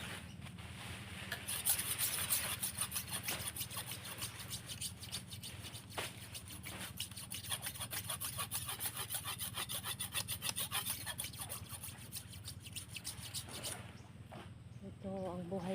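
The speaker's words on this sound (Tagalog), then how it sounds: "Hasa muna tayo guys. Kailangan kasi matalas yung gagamitin natin dito." A blade is sharpened before clearing banana plants outdoors, a faint, continuous rasping rub repeated in quick strokes over a low background hum.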